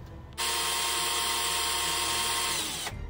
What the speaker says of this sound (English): you can magnetize it by drilling an 11 by 64 inch hole in the middle of the ship